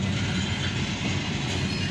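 Phosphate freight train rolling past at Bradley Junction, Florida, a steady loud rumble of rail cars with a broad rushing roar and faint wheel clatter, continuous throughout with no talking.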